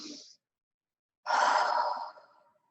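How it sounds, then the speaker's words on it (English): Slow, deep breaths drawn during a guided stress-relief exercise: a short exhale fades out, then after a pause a long, full breath rushes out and trails away, close and alone with no talking. "let's join together and just take a few deep breaths together"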